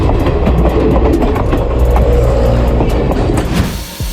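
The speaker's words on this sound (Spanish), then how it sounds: "La locomotora 630 emite una sinfonía de vapor y metal." Steam locomotive 630 runs close by in a loud, continuous rush of steam and clattering metal, with rhythmic rail clicks and knocks throughout.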